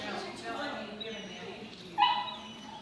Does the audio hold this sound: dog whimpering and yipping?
yes